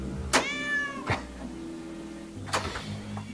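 A nearby cat gives two distinct meows about two seconds apart, and the first has a drawn-out wavering tone, over a low steady background hum.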